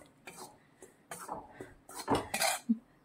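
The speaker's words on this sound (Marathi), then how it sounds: "हे बेसन कंटिन्यू अशाच कंडिशन मध्ये हलवत भाजून घ्यायचं आहे" Besan gram flour is stirred and roasted in a pan on low heat, a spoon scraping and clinking against the metal in short uneven strokes, close and moderately loud with no talking.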